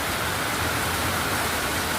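Heavy rain pours steadily over Kolkata after a long heat wave, a dense continuous hiss of drops striking surfaces, loud and close, with no voices.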